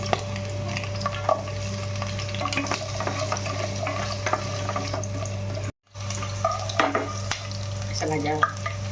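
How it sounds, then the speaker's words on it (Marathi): Mixed vegetables frying in oil in a home kitchen, a steady sizzle with stirring clatter and scrapes throughout, briefly cut out midway, with tap-water-like splashing also present. "आपण त्या सगळ्या भाज्या आहेत ना त्या फ्राय करून घ्यायच्या आहेत"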